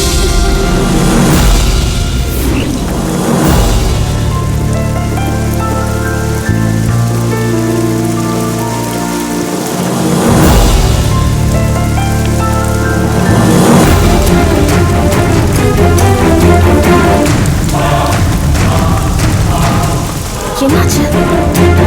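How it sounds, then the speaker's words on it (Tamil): Heavy rain falls in a Tamil TV serial scene, a loud, constant wash that runs the whole way beneath swelling dramatic music with tonal layers and low booms. "நீ பாட்டுக்கங்க மழையில நனைஞ்சிட்டு இருக்க"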